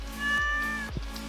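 A cat in the video game Stardew Valley lets out a short meow, close and clear, over a quiet game background.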